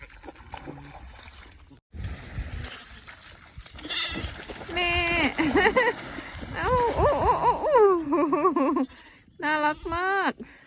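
A mother ewe and her lamb being moved on a sheep farm during flooding bleat repeatedly, loud and close, in several wavering calls, with a voice talking in the background at the start.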